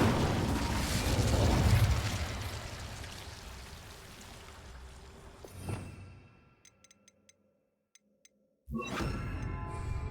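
Incendio fire spell bursts in Hogwarts Legacy: a loud, roaring crackle of flame that fades after several seconds, followed by a near-silent pause with faint clicks and then another loud burst.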